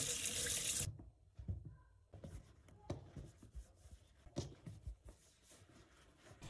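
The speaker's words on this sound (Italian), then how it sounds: "Per cominciare dovete lavare i peperoni sotto acqua corrente" Bell peppers washed under running kitchen tap water: a loud gush of water that cuts off within a second, followed by quieter clatter, rustling and handling sounds.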